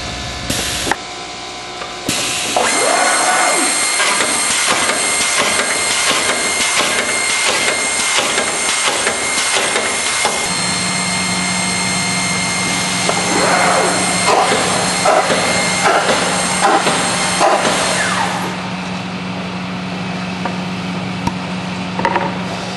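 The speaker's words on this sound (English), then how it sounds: "This panel will be placed vertical for vertical drilling." An OMAL HBD boring machine vertically drilling a wooden panel gives a loud, continuous mechanical clatter with rapid repeated strikes and a steady motor hum, a sustained low drone joining partway through.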